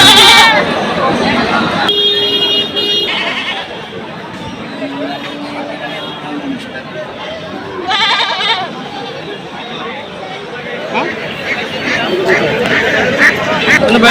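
Goats bleat at a rural livestock market in Narsingdi, several sharp calls from nearby animals rising over constant crowd chatter and loud talk close by.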